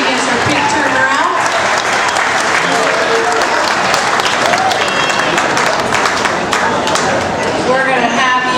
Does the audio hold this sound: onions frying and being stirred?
no